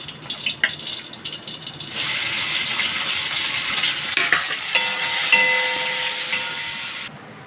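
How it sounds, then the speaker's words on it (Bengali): Prawns coated in salt and turmeric fry in hot oil in a kadai, a steady close sizzle with scattered crackles and pops that swells and holds before cutting off. "এবার চিংড়ি মাছটা ভাজবো, নুন হলুদ দিয়ে মেখে ভাজবো।"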